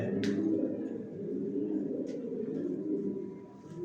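Grizzle pigeons coo softly and steadily in a loft while sitting on eggs, a low continuous murmur of several birds close by, with a couple of brief chirps over it.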